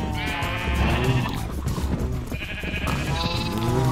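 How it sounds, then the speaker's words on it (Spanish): Minecraft sheep bleat loudly and repeatedly in wavering, drawn-out calls, several overlapping cries close by with little else around them. "Acabo de hacer una oveja gris"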